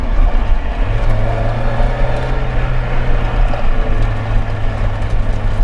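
Loud, constant engine drone and rushing road noise from a 1991 Mazda MX-5 Miata (NA6, 1.6-litre four-cylinder) at high speed, a low steady roar with no voices.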